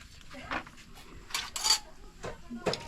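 Bowls and dishes being washed by hand in a rural Lao kitchen, with several clinking and clattering bursts of crockery and cutlery at close range, separated by brief quieter gaps.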